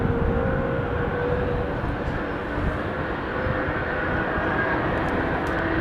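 Airliner engines spool up toward full takeoff throttle at Heathrow, a steady, dense roar that stays loud and unbroken throughout with no talk.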